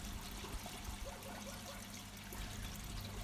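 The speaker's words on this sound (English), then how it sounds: "You can see the water is being pinched down in between two large rocks to create the current." Water current squeezed between two large rocks in a backyard pond, a soft continuous trickling flow, faint and steady with no voices.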